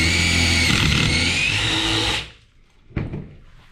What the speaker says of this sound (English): And you drill both your holes.